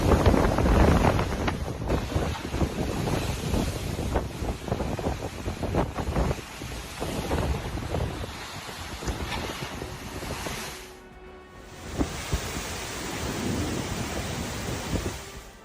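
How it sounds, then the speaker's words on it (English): Strong winds and large crashing waves on Lake Michigan along the Chicago coast during flooding, a constant roaring wash of surf and wind buffeting the microphone, loud and close throughout with a brief lull before the roar returns. "Strong winds blowing across Lake Michigan brought large waves and flooding"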